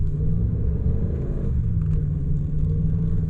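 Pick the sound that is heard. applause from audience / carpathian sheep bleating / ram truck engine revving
ram truck engine revving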